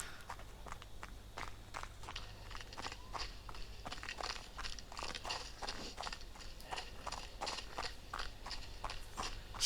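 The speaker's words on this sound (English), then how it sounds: "it's kind of a case of crunching through the thick frozen snow or slipping" Steady footsteps crunch rhythmically through thick frozen snow on a road during a Norwegian ultra-training run, close and even-paced with a low background hum.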